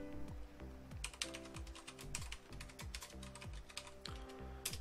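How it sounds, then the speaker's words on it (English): Rapid keystrokes on a computer keyboard as a username and password are typed, a quick irregular clicking that stays close and clear with no voices. "Let's go ahead and type in your Red Hat network username and your password"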